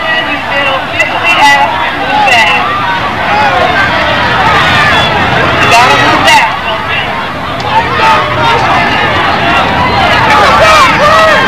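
Crowd noise at a youth Pee Wee football championship game between the Rainier Eagles and Burien Bearcats, a steady loud hubbub of many voices cheering and shouting outdoors for the whole stretch.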